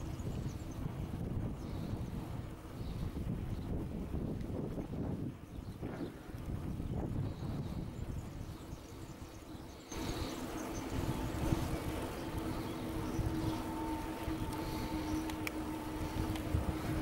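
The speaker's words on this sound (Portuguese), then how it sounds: "Esta ventania." Strong wind buffets the microphone during an outdoor group activity, producing a continuous low roaring rumble with gusty swells that shifts in tone partway through and never lets up.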